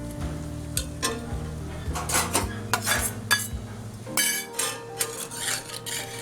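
A spoon stirring boiled taro and potatoes in a cooking pan, irregular metallic scrapes and knocks against the pan over a low sizzle, close and clear.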